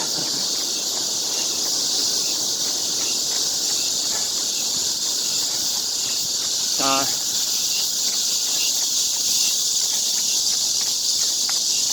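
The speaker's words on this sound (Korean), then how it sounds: "매미 소리도 시끄럽습니다" Steady high-pitched cicada buzzing fills the background in 32°C summer heat beside the Han River in Seoul, with a brief sharp chirp partway through.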